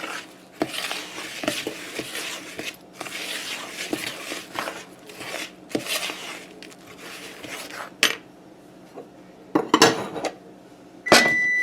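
Dry ingredients with salt being blended together in a bowl, heard as busy rhythmic scraping and whisking against the sides, pausing near the end for a few sharper clinks.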